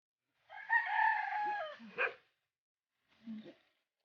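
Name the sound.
rooster crowing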